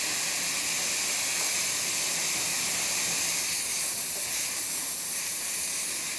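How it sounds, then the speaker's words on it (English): Steam wand of a Breville Touch espresso machine steaming, a loud, steady broadband hiss that holds unbroken for the whole stretch with no talking. "the machine is definitely steaming."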